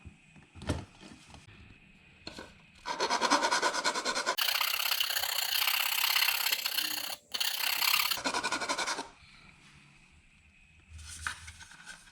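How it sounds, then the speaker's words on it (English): A sharp plastic edge is trimmed off an A-pillar gauge pod during a car install, heard as close, loud rasping and scraping in two long sustained bursts, with quieter handling noises before and after. "you're going to want to trim that sharp edge off."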